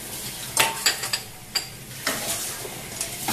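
A spoon stirs a food mixture with olives and herbs in a pot, giving several soft scraping and clinking strokes at irregular intervals over a low background hiss, close by with no talking.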